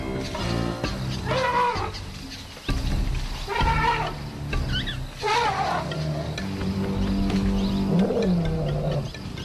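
Maggie, a big cat at a waterhole where elephants are bathing, lets out a series of growling, moaning roars in frustration, several drawn-out calls repeating over a low ambient background.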